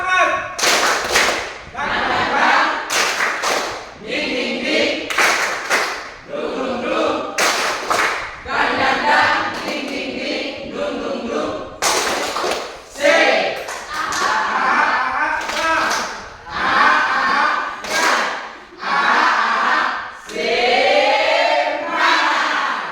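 A school class clapping a rhythmic spirit clap during a physical education lesson, loud bursts of group claps and thumps in patterned rhythm, repeated steadily with some voices among them.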